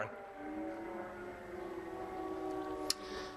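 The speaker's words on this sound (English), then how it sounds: "you can hear the siren sounds behind me" Air raid sirens wail in the distance over a Ukrainian city under attack, a slow rising and falling tone over steady background hum, and a person briefly speaks near the end.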